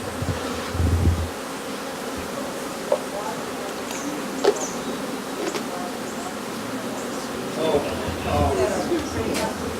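Honey bees buzz steadily, gathered in a quarter cup during a mite inspection, a continuous close insect hum with brief knocks and handling noises and a voice heard faintly at times.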